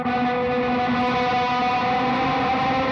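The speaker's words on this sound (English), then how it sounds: "adding now is the same ambient drive pedal that I had before" A sustained electric guitar chord through an ambient drive pedal rings out with a thick, hazy overdriven tone and wash of ambience, steady and loud throughout.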